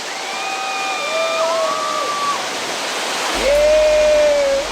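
Steady, loud rushing roar of a 20-meter waterfall, continuous broadband spray noise, with faint tonal whistles and a brief thump partway through.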